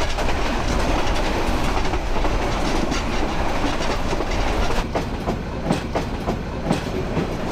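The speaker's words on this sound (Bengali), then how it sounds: "এই ঢাকা বিমানবন্দর একেবারে এক্সপ্রেস হয়ে নিচ দিয়ে যাচ্ছে আমাদের ট্রেন" The Chattala Express train runs under Dhaka airport, heard from on board as a loud, continuous rumble with rhythmic clickety-clack of wheels on rails and a few sharper clanks near the end.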